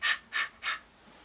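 A voice imitates harsh panting breath for the Arabic letter ha: three short, breathy exhalations in steady rhythm, close and fairly loud, with no speech.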